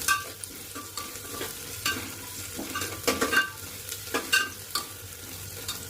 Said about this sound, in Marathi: आणि छान असं मिक्स करू परत.